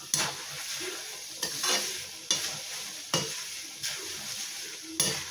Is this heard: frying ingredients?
yes